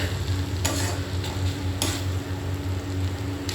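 Banana flower (mocha) curry is stirred in a pan with a spatula, scraping and clicking a few times over a steady frying hiss, nearby with no talk.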